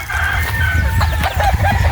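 Chickens on a coffee farm crow and cluck up close and loud, with a drawn-out crow mixed among busy clucking and short calls over a steady low background.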